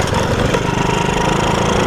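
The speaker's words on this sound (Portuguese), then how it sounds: "A corrente, mano. Batendo no quadro elástico." A motorized bike's chain slapping against the frame after the rear wheel was realigned, a dense steady rattling clatter over the running engine, loud and close throughout.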